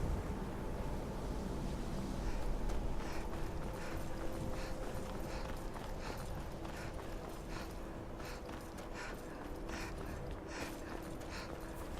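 Horse hooves clip-clop in the Skyrim video game, a rapid steady run of soft rhythmic hoofbeats over a continuous ambient wash, moderately close and faint.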